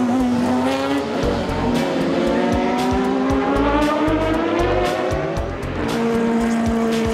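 Racing cars at the Spa-Classic historic event roar past loudly on the track, engines revving up and down through gear changes with a brief tire squeal, one close pass dominating before the sound eases and builds again.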